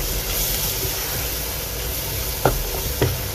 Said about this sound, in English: Let's fry the masalas really well.